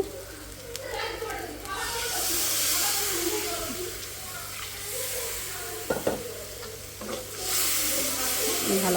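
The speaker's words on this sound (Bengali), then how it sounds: "মশলাটা ভাজা ভাজা হয়ে গেছে" Whole and ground spices, including black pepper, cinnamon, cardamom and cumin, sizzle and get stirred in a pan for beef curry, with a steady close hiss and occasional scrapes as speech runs over it.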